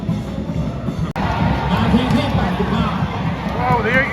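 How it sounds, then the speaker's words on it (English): A football crowd of Ayutthaya United fans keeps up steady cheering and chanting in the stadium late in a match against Port, a dense, continuous roar of voices with a brief dropout near the start. "the Ayutthaya fans have never stopped cheering"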